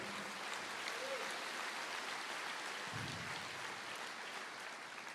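Church congregation applauding during a sermon, a steady, dense wash of clapping that fills the whole stretch at an even, moderately loud level, with a brief voice audible underneath.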